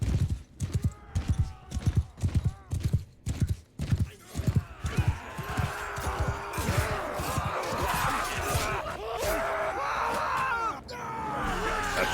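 Cavalry and horse archers riding in Mount and Blade Bannerlord, with rhythmic hoof clip-clops pounding loudly at first, then blending into a dense wash of galloping, clashing and shouting battle noise.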